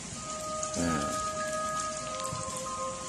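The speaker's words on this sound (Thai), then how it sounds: "วันนี้ฝนตกนะครับฟ้าครึ้ม" Steady rain falling at a train station on an overcast day, a soft continuous hiss of drops on surfaces with a faint, brief murmur of a voice partway through.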